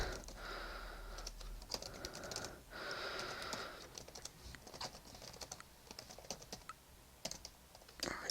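Computer keyboard typing in quick, uneven bursts of clicks and key taps at close range, with short pauses between runs of keystrokes and no talking.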